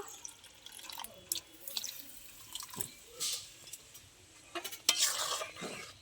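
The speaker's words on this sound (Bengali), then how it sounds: "আমি অল্প করে জল দিয়ে দেবো, এটা একটুখানি ফোটার জন্য।" Water poured a little at a time into simmering palak paneer spinach gravy in a pan, with soft splashing drips and brief bursts of sizzle, close and fairly quiet with no talk.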